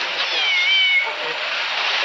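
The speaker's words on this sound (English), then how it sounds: "we got a cat here" A rescued cat meows at a fire scene, a thin high cry that holds for a couple of seconds with steady noise behind it and faint voices nearby.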